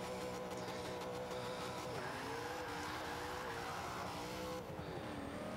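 A car in the racing video game Forza 5 accelerates hard off the line with a manual clutch transmission, its engine revving loudly and continuously, pitch sweeping upward through gear changes with faint tire noise.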